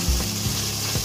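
Tomatoes being stirred in a hot pot for salmon head sinigang: continuous close sizzling with a few soft scraping strokes of a spoon, no speech.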